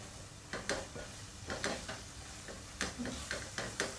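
Prawn biryani masala with tomatoes, mint and coriander cooks in a pan, giving a soft steady sizzle broken by repeated close spoon scrapes and stirring clicks, no voices.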